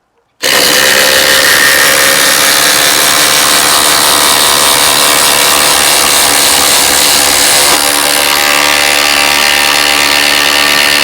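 A Hercules Pro impact driver runs loudly and continuously for about ten seconds as it drives a fastener into wood. It starts abruptly after a brief silence and changes tone slightly near the end.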